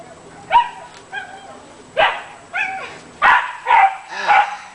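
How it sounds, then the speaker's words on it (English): A neighbor's dog in an apartment complex gives about seven sharp, yappy barks, spaced roughly half a second apart at first and then quicker and louder, against a quiet background. "Somebody's got a dog that's being obnoxious."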